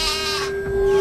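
A goat bleating, one sustained wavering call heard close and fairly loud, with no talk.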